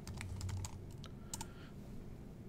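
A few quick keystrokes on a computer keyboard, soft and close over a low background hum, with no talking.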